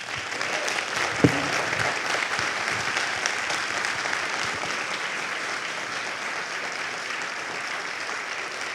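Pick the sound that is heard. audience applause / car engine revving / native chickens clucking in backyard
audience applause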